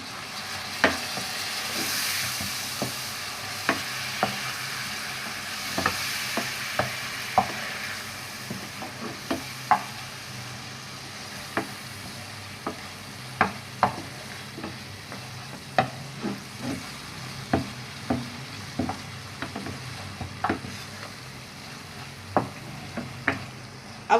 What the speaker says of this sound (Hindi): अब हम इसको 1 से 2 मिनट इतने अच्छी तरीके से भूनेंगे